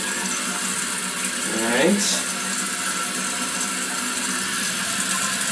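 A toilet tank slowly refills from a tap, giving a steady hiss and trickle of running water with a brief gurgling rise midway; a person says a single word near the start.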